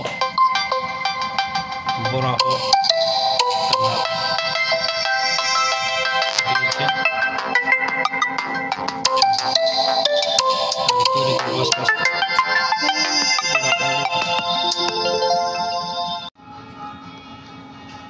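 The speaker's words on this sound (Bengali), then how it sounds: "মাঝখানে একটা ফোন এসে গিয়েছিল" A phone ringtone from an incoming call plays loudly and continuously as a repeating melodic tone for about sixteen seconds, with a brief spoken word over it, then cuts off abruptly near the end.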